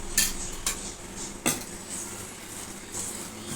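A spoon clinks and scrapes against a bowl while prawns are mixed with yogurt for chingri bhapa, giving a few distinct close taps spaced irregularly over soft scraping.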